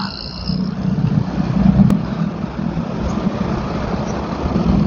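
An angkot minibus idles and pulls through street traffic in Cianjur, a low, steady engine rumble close by amid general road noise, with a brief sharp click partway through.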